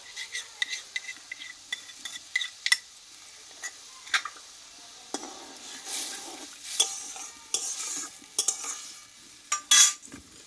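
Ground black and white mustard paste hisses in mustard oil with tomato in a pan for a thin puti fish curry, under frequent sharp spatula stirs and metal clicks against the pan, close, with no speech.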